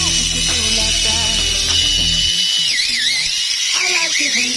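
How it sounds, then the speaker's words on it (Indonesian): A Tamiya Mini 4WD car on an MS-L chassis runs its motor loudly, a high, shrill buzzing whine that holds steady and then wavers in pitch, with a low hum under the first half. "Kalau dari transmisinya kedengeran kenceng banget mesinnya ya."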